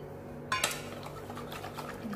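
A spoon scrapes and clinks against a pot as agar jelly powder is stirred into 700 ml of water, giving a sharp metallic knock followed by soft, repeated stirring taps up close.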